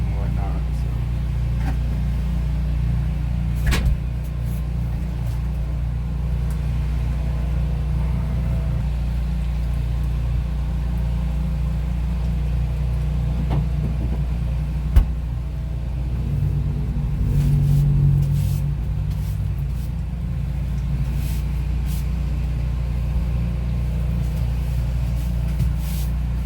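A generator running at a coffee truck, a steady low droning hum with a constant pitch, close and unbroken, with a few faint clicks and clatters of equipment over it.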